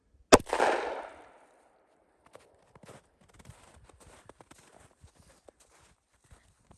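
A gun fires one bullet into sand, a single sharp loud crack followed by a brief decaying ring, then faint scattered ticks and small shuffling sounds.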